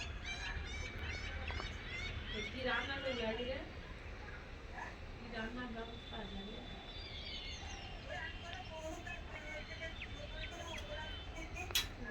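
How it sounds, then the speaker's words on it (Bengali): An unidentified bird calls outdoors in repeated honking, goose-like notes over a quiet ambient background, with other faint chirps and a person talking softly at times. "ওইটা কি একটা পাখি ডাকছে বুঝতেই পারছি না"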